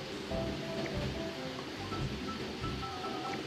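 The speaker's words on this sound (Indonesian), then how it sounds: "Mana di sini hujan petir lagi" Steady rain pours outside with a dense, even hiss of drops on surfaces, continuous and fairly loud, with no distinct thunder cracks.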